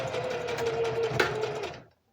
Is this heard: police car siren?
no